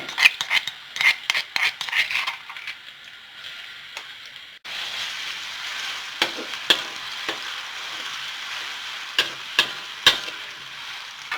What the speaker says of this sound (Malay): first kita tumiskan dulu